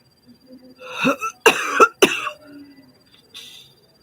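A few harsh, close coughs in quick succession, with a short throat-clearing burst trailing off afterward.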